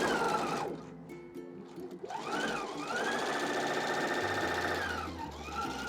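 Sewing machine stitching the side seam of a DIY shift dress with pockets, a close whirring motor run with a brief pause and changes in speed, steady and alone.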